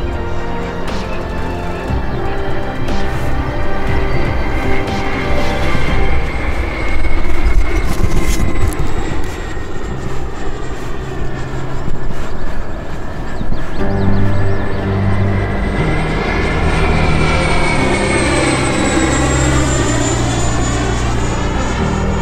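FMS BAE Hawk 80mm EDF radio-controlled jet flying at full throttle in level passes, a loud sustained whining ducted-fan roar with rising and falling pitch as it sweeps past.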